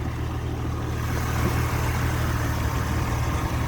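Engine of a 2004 Porsche Carrera 2 cabriolet idling, with the hood open. It makes a steady, even low rumble heard up close for a few seconds, alone and without talk.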